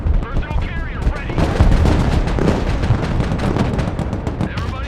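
Artillery firing in the video game Broken Arrow, a loud, dense barrage of booming shots and rapid gunfire rolling continuously and close by, with voices in the mix.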